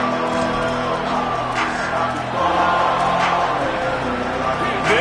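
A packed stadium crowd at a college football game featuring the Longhorns roars steadily, a dense, sustained wall of cheering and noise that swells slightly midway and holds throughout.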